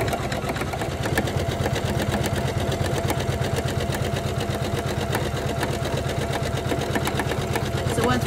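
A Janome 500e embroidery machine runs a tack-down stitch on a Halloween pillow, giving a steady, rapid needle clatter at an even rhythm that stays moderately loud and continuous throughout, with no talking.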